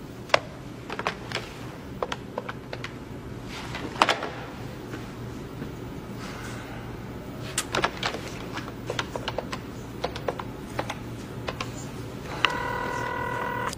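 A phone is dialed to call a cell phone: scattered clicks and button taps spread across several seconds over a low room hum, then a steady electronic tone sounds near the end, with no speech.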